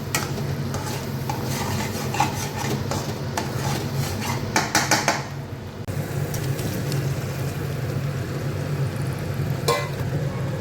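Food being stirred and sautéed in a pan on a home stove while potatoes are cooked, with steady frying noise, scraping of a utensil against the pan and a few clinks of cookware throughout.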